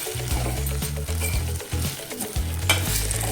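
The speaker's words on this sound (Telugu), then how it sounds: "పసుపు వేసుకున్న తర్వాత మరొకసారి మొత్తం కలిసేటట్టుగా కలుపుకోవాలి" Taro pieces frying with turmeric in a pan are stirred, producing a loud, continuous sizzle broken by repeated scraping and clattering stirring strokes close by.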